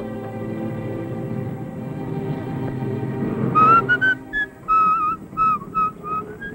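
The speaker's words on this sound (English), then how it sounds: "You're whistling." A man whistles a lilting tune in clear melodic phrases over a low background hum, the notes rising and falling in short bursts.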